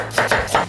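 A kitchen knife slices through lotus root on a cutting board, three quick crisp cuts in close succession, near and clear, with no voices.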